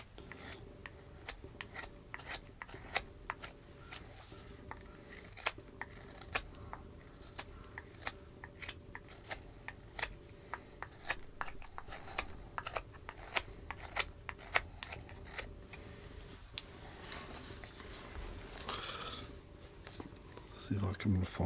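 Pocket knife blade, a Rough Rider Classic Carbon 2, shaving and cutting wood while whittling a small seahorse figure, heard as close, repeated short scraping and slicing strokes in an irregular rhythm throughout.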